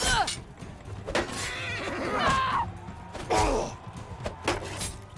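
A horse in Mount and Blade II: Bannerlord whinnies several times in quick succession, loud and close, mixed with clattering and other game effects.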